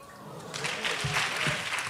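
Audience applause for awardees at a health issue forum, broad crackling clapping that swells after a quieter start and continues steadily through to the end.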